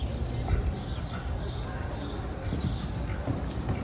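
A mare's hooves clip-clop steadily on arena footing during a riding exercise, with a young rider changing leads, the rhythmic footfalls fairly close under a constant background rumble.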